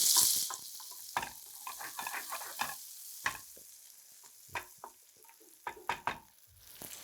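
Small shallots fry in oil for a Chettinad gravy, a faint sizzle broken by repeated scraping and stirring knocks of a spoon against the pan.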